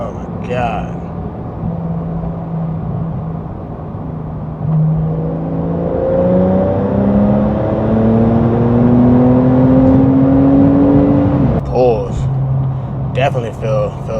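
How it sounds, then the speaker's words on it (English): Porsche 911 of the 992 generation fitted with an aftermarket catback exhaust, heard from inside with the windows up as it accelerates hard, its engine note climbing steadily through rising revs over several seconds, with talk before and after. "But it just sounds like a sports car now."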